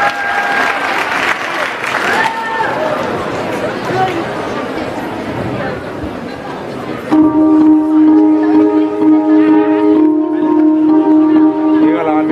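Applause at a school freshmen's ball in Vaslui for a singer, loud crowd clapping with chatter for a couple of seconds, fading as sustained musical tones take over.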